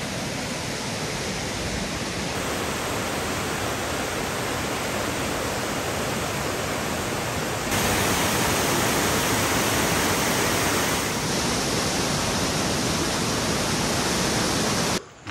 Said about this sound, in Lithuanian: Vau, koks krioklys įspūdingas!